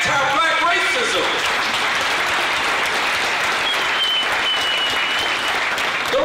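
Loud, sustained applause from a large audience fills the whole stretch, with a few cheers mixed in and a voice briefly audible underneath.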